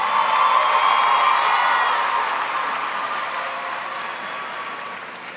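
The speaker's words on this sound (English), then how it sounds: "Let's give all of these remarkable seniors a round of applause for a job well done" Applause and cheering fill a high school graduation ceremony, a broad crowd clapping steadily with some whoops, loud at first and gradually tapering off.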